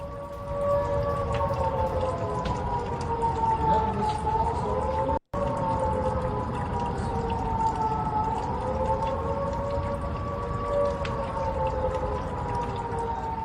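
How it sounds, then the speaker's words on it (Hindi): Air raid sirens wail over Tehran after an airstrike, two steady rising-and-falling tones sounding continuously and loudly, with a brief dropout partway through and no speech. "एयर स्ट्राइक के बाद तेहरान में सायरन की आवाजें भी गूंज रही हैं।"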